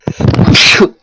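One sharp, close sneeze with a quick breathy intake and a forceful burst.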